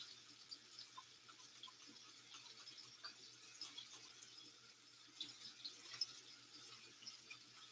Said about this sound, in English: Washing the reusable straws.